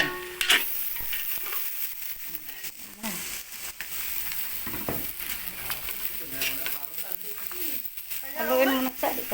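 Food frying in a pan at home is stirred with a spatula, giving an uneven sizzle broken by scraping and clinks while people talk nearby.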